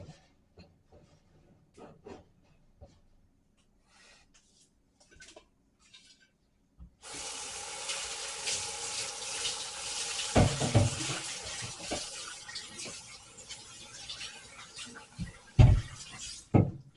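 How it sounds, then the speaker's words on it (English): A kitchen tap runs steadily to fill a cooking pot after a few quiet knocks, the rushing stream continuing loud and close for about ten seconds with brief clunks near the end. "put some water on the stove."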